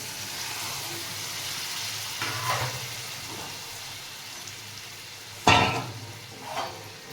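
Hot water hits a pan of spiced brinjal masala for khara vanga and sets off a sharp, loud sizzle and hiss. A softer stir-and-sizzle comes before it, and a brief flare-up follows.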